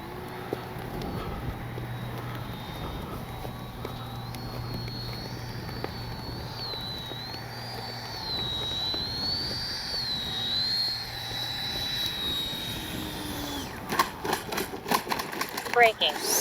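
A Freewing 90mm F-4 Phantom II RC jet comes in to land, its ducted-fan whine rising and falling steadily in the distance, with a brief burst of wind buffeting the microphone near the end.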